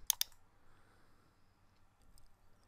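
Two quick, sharp computer mouse clicks come right at the start, followed by near silence and a faint soft tick later on.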